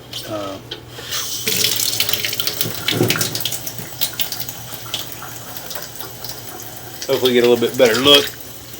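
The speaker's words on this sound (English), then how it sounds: "So we'll run some water, and hopefully it'll help also rinse off the camera" Water running into a drain clean-out to rinse a pipe inspection camera at a house, a steady gushing flow with splashes and gurgles, bursts of louder rushing near the end.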